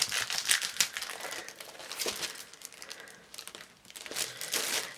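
Sheets from a craft paper pad are handled up close, giving continuous crinkling, rustling and sliding paper sounds with sharp crisp flicks throughout, at a fairly quiet level.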